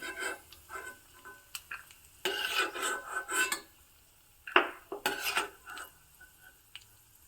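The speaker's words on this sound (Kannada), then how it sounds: "ಶೇಂಗಾ ಮತ್ತು ಗೋಡಂಬಿ ಎಲ್ಲ ಚೆನ್ನಾಗಿ ಫ್ರೈ ಆಗಿದೆ ಎಲ್ಲವನ್ನು ಒಂದು ತಟ್ಟೆಗೆ ತೆಗಿತಾ ಇದ್ದೀನಿ" Fried peanuts and cashews are scraped from a pan onto a plate, giving close, loud bursts of metal scraping and clattering, with rattling nuts between brief quiet gaps and no talk.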